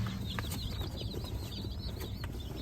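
Soft, continuous peeping and clucking from small chickens, close by over a low background rumble.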